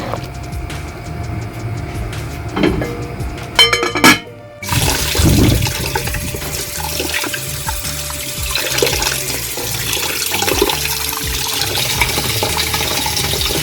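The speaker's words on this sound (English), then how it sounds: "So wash until the water is clear." Rice being washed in a pot of water while making rice and peas, with water running and sloshing: a few sharp clinks, then a steady rushing pour and splashing throughout.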